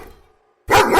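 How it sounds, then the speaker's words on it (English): One loud, sudden dog bark bursts in close after a near-silent moment, heard alone. "A dog goes."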